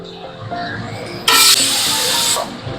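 Fried meat and potatoes dropped into a pan of sizzling spice paste, a loud sudden hiss and sizzle erupting after quieter frying and then holding strong, close up with no talking.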